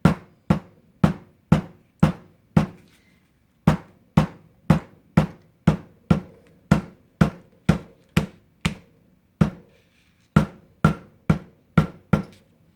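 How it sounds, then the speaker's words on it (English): Sharp, evenly spaced taps of a flat hammer striking waxed thread stitched into a leather wallet, about two blows per second in short runs with brief pauses, close and clear with no talking. "take a flat hammer and just hammer down the thread so it's not sticking up"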